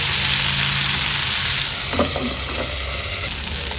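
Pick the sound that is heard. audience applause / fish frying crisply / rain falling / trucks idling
fish frying crisply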